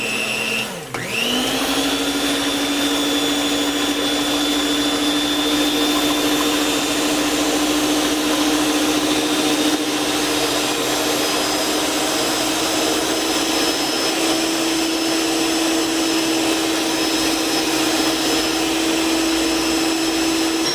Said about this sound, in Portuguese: Agora eu vou bater a clara em neve, que é o primeiro passo para começar o pão de ló.